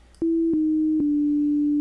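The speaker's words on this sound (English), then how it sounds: "When you play that sine wave, you're going to get that sine wave across the board." Novation Peak synthesizer playing plain sine wave notes: three clean, steady tones begin in quick succession, each sliding into the next. The last note is held without wavering, loud and alone, with no talk.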